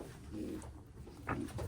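A pigeon coos softly in a breeding loft, a few low throaty coos close by and fairly quiet, with faint rustling between them.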